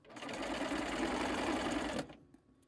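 A home sewing machine chain-piecing 2-inch and 3 1/2-inch quilt strips, running in one steady fast whirring burst for about two seconds before stopping, close and alone.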